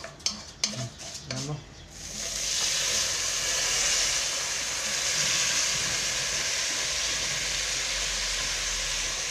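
Rice tipped into a hot pot for rice with vermicelli gives a quick rattle of grains with a brief spoken word, then settles into a steady, moderately loud sizzle that carries on to the end.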